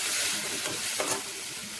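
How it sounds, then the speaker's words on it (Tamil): Tomatoes and lentils sauté in hot oil for a Tamil-style thuvaiyal, giving a steady close sizzle and hiss with stirring scrapes, with no one talking. "நல்லா இந்த எண்ணெயிலே வதங்கணும்"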